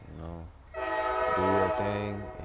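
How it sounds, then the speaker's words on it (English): A passing train sounds a loud, sustained horn that swells in and shifts pitch partway through, rising over someone speaking outdoors. "Excuse this train."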